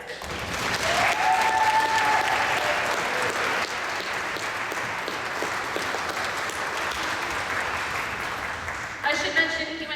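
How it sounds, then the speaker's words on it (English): Audience applause fills a school spring concert hall, a steady dense clapping from a sizable crowd that holds for the whole stretch with a faint whistle early on, then a voice cuts in near the end. "You can clap for it, yeah, it's good."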